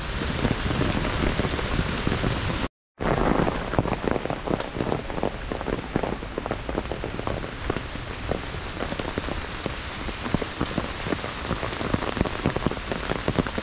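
Heavy rushing water at Siu Ma Hang waterfall in Hong Kong, swollen after earlier heavy rain: a loud, steady broadband roar close by that runs the whole time apart from a brief cut near the start.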